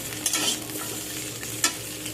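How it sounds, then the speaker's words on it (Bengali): Drumstick stems frying in a pan while being stirred, a steady sizzle broken by two sharp scraping strokes of the spoon. "সব একসাথে 2 মিনিটের জন্য ভালো করে নাড়াচাড়া করে নেব"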